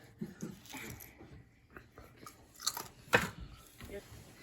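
Crisp crunching bites on homemade dehydrated banana chips, a few close, sharp chews and snaps with soft breathing and some murmured talk between them.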